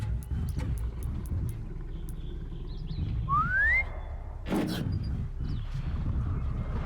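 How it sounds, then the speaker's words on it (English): Aloy gives a short rising whistle in Horizon Zero Dawn, a single clear tone sliding upward midway through, set against low game ambience, soft clicks and a brief thump. "Can I whistle for you?"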